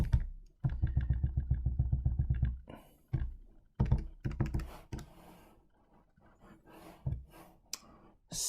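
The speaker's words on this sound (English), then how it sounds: "And type that whole thing into my calculator." Calculator keys are pressed in quick clicky runs, a dense burst of taps followed by shorter scattered groups and single presses. The tapping is close and sounds with no speech.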